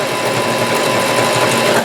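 A Janome HD3000 sewing machine runs a jean stitch at a steady, fast whir, close and loud, with no voices over it.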